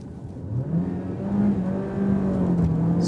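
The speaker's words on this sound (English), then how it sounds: "then I hit the throttle once more" A DS7 Crossback Performance Line plug-in hybrid SUV accelerates hard at full throttle from around 35, its steady engine and motor drone climbing in pitch, loud and continuous with no voices.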